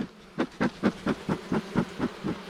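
Rhythmic buzzing pulses of honey bees at a hive on heather repeat about every quarter second, close and fairly loud, droning in short regular bursts.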